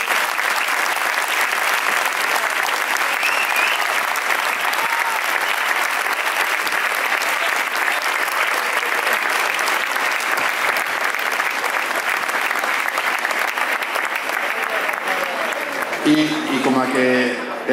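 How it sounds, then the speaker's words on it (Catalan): A large festival audience applauds steadily and loudly for the whole stretch at the Canals bonfire (Hoguera) celebration, a dense continuous clatter of many hands that thins toward the end. "jo sí que vull que era un fort aplaudiment per a don Rafael Calabuig"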